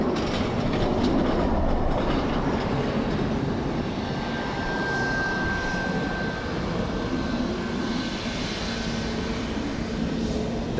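A Ryanair airliner comes in to land on runway 28 left at Dublin Airport in a strong crosswind, a broad, steady jet roar at a distance that holds level for the whole stretch, with a faint thin whine above it.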